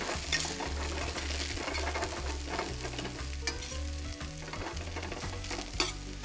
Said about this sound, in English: We'll add some herbs.